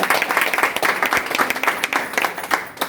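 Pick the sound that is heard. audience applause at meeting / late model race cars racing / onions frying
audience applause at meeting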